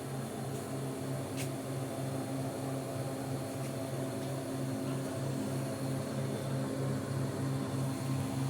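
A homemade onion storage machine from Faridpur runs steadily throughout, a constant motor hum with a low, even drone and faint rattling, with no talk and no change in level.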